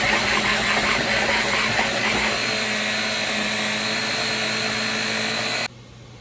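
An electric food chopper grinds horseradish with a steady, loud whirring motor hum that runs continuously and then cuts off abruptly near the end.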